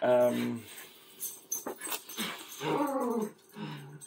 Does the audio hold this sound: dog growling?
yes